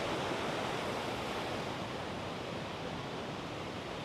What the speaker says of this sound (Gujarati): અહીંથી આ ધોધ સરસ દેખાઈ રહ્યો છે